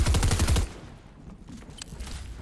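A rapid burst of video game gunfire, loud and close, cuts off after half a second, leaving quieter distant shots and faint noise.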